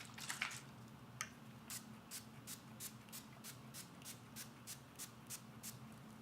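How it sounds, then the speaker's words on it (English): Physicians Formula Insta Ready setting spray misted onto a face, a quick burst of short pumps followed by a long run of evenly spaced soft spritzes, close and faint. "I'm just going to set my face with the Physicians Formula Insta Ready"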